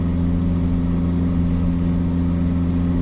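An automatic Hyundai Atos climbs a steepening hill under throttle, its small engine droning steadily and evenly from inside the cabin with no pauses.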